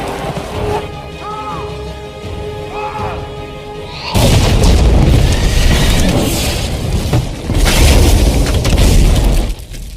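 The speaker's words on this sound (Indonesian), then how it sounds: "jembatan mulai meledak." A bridge blows up in a zombie war film, starting as a sudden loud, sustained explosive roar with crashing debris that surges again midway and cuts off near the end, following a quieter stretch of soft music and ambience.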